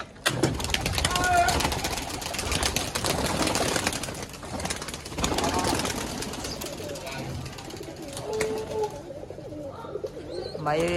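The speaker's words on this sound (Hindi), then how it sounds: "कबूतर ये उड़ रहे" Pigeons (Madrasi breed) take off and fly close by in a desi loft, with a burst of sharp wing claps and flutters mixed with throaty cooing; voices talk over part of it.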